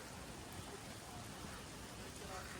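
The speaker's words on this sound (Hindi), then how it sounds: "तो बारिश स्टार्ट हो चुकी है" Steady rain hisses softly and evenly throughout in Dehradun, a faint, continuous wash of falling water with no breaks.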